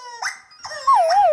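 A cartoon dog lets out short whimpering yips and then a rising, wavering howl, close and clear with no talk over it.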